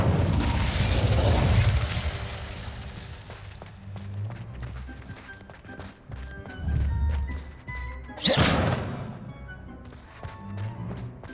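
An Incendio fire spell cast in Hogwarts Legacy, with a rushing fiery burst and later a sharp flare amid ongoing game combat noise, thuds and footsteps.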